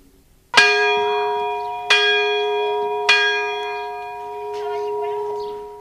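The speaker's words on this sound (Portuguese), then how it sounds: "Um dia, o sino da igreja tocou afinados" A church bell rings three clear, resonant strokes about 1.3 seconds apart. Each strike hangs in a long, sustained tonal decay, and there is no talking.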